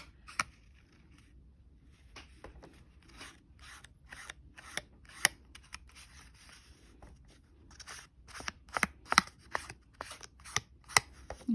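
Scissors snip through paper while cutting spring craft embellishments, a series of crisp close clicks and rustles that start sparse and grow quicker and denser toward the end.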